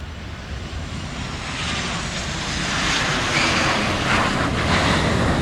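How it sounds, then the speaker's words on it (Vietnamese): A Boeing 737 airliner in a special painted livery comes in to land at an airport, its engine roar loud and broad, swelling steadily as it passes close overhead, with no talking. "mời mọi người chiêm ngưỡng pha hạ cánh của chiếc máy bay này đã nhé"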